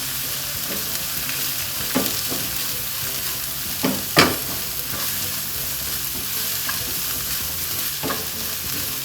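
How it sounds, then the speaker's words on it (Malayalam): Cabbage masala with a teaspoon of Kashmiri chili powder is stirred in a hot pan, with a dense, even sizzle and occasional scraping strokes of the spoon, one distinctly louder. "അത് ഇട്ട് കൊടുത്ത് ഇതെല്ലാം നല്ലപോലെ മിക്സ് ചെയ്യാം"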